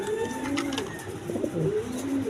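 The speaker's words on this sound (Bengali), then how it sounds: "এগুলো ইম্পোর্টের কবুতর" Imported pigeons coo softly in a low, rolling murmur, with a few overlapping calls close by against a steady background hum.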